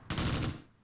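A short, loud burst of rapid gunfire in the World War II tactics game Close Combat Gateway to Caen, a sharp crackling volley lasting about half a second before fading.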